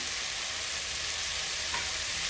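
Garlic and sautéed onions fry in a pan for a radish kara kuzhambu, making a brief, even, close-up sizzle with no talking over it.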